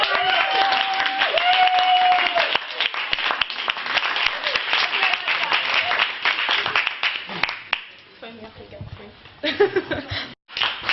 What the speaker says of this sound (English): massive round of applause for all of us